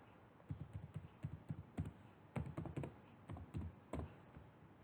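Typing a passkey on a computer keyboard for an RFID car parking system, quiet close key clicks in irregular quick runs with short pauses, no voices.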